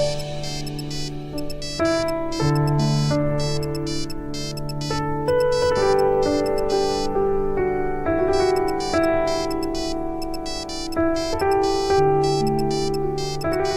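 A mobile phone ringtone plays a bright, repeating melodic tune, loud and steady, with no talk over it.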